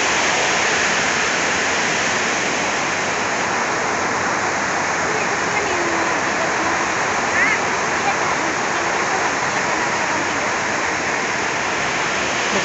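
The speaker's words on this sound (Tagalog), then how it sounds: "Lakas ng ulan sa labas." Heavy rain pours steadily outside a market in Lipa City, a loud, dense, unbroken hiss and roar that fills the whole stretch without pause.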